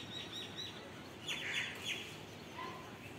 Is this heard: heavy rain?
no